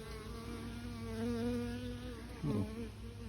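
Honeybees drone steadily around an opened swarm hive where they are building out fresh comb with nectar, a close, continuous buzz that swells briefly louder near the end.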